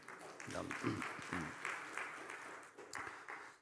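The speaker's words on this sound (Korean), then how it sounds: "박수 소리 조금 억지처럼 이렇게 들리네요" Scattered applause rises from a Wednesday worship congregation in church, thin and somewhat hesitant, running underneath a voice speaking over it.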